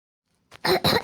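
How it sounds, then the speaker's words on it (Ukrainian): Two quick, harsh coughs burst out close by after a moment of silence. "Вибачте, трохи кашлюю."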